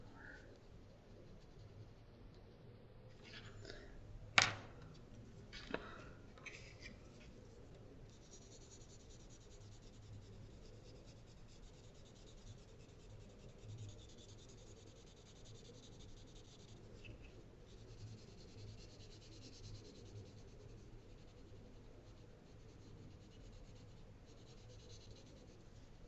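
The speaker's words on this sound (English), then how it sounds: "I'm using my wooden pencil" Wooden pencil drawing on paper, a soft, steady scratching and rubbing that runs quietly and continuously under faint room noise, with a couple of sharper taps near the start.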